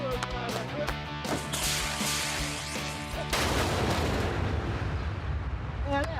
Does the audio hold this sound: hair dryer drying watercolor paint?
no